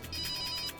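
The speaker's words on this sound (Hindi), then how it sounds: "फोन की आवाज तो यहीं कहीं से आ रही।" A telephone rings with a steady electronic tone, moderately loud and continuous, with no voices over it.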